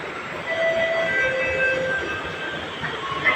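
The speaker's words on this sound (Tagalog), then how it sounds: "Yan na yung train." A train passes at a station platform with a steady rumble of wheels and faint high metallic squeals from the rails, heard from nearby without talking.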